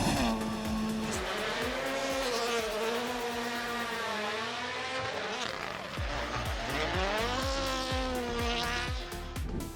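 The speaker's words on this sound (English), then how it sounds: "This is why the Toyota GR Yaris Rally 1 sounds like it's detonating." Turbocharged four-cylinder engine of a Toyota GR Yaris Rally1 rally car, loud and continuous, rising and falling through the revs with harsh, crackling detonation-like pops, heard up close throughout.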